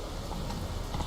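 Roach the horse gallops in The Witcher 3, a brief, quick run of hooves clip-clopping over a dense game soundscape.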